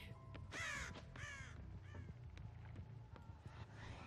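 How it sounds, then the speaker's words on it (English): Several crows caw loudly in harsh repeated bursts within Dead by Daylight, close and sharp over a low ambient game drone, with fainter caws trailing off. "there's a lot of crows, but there's ways to get around the crows"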